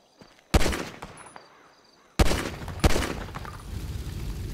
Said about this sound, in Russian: Ну, наверное, с пистолета выстрелим.